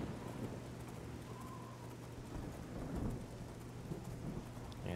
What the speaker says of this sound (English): Like the rain.